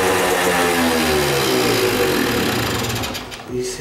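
A Kawasaki KS II-50 small motorcycle engine with a fuel problem runs steadily and loud up close, flooding and sagging briefly near the end before catching again.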